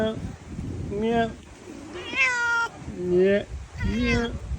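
A cat on a farm meows several times in a row, each call a clear, rising-and-falling wail with short pauses between, fairly close and loud against a busy outdoor background.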